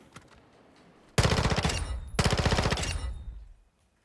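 A PDW submachine gun in Modern Warfare II firing two rapid full-auto bursts, loud and close, the second burst longer and trailing off into silence.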